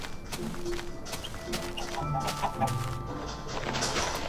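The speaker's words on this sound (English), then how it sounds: "Ooh, I got chickens to follow me." Chickens clucking in the video game Minecraft, several short clucks close by over game background noise, with no talking.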